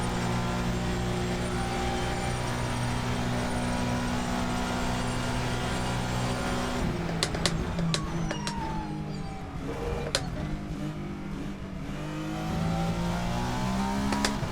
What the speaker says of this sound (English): even as just a hot lapping car, this thing is mega fun